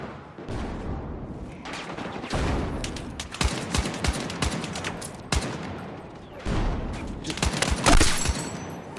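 Battlefield 6 gunfire crackles through a multiplayer firefight, with sharp shots arriving in bursts and scattered single reports, some close and punchy, others more distant, while a voice speaks faintly in places.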